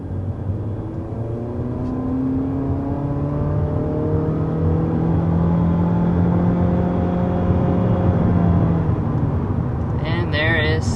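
A 2024 Honda Civic Sport accelerating hard to 60 mph, heard from inside as a loud continuous engine drone rising steadily in pitch, with a brief faint chime near the end.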